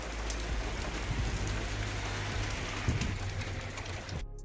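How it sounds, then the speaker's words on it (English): Heavy rain pours down steadily, a dense broadband wash of drops hitting surfaces with low rumbling underneath, loud and continuous until it cuts off abruptly near the end. "it was raining like crazy"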